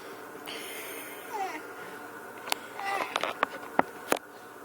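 A house cat gives a short, soft meow at close range, followed by scattered clicks and handling noises while people talk quietly nearby.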